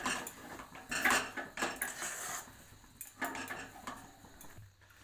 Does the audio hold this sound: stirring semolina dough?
yes